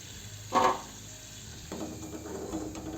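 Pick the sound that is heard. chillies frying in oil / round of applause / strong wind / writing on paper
chillies frying in oil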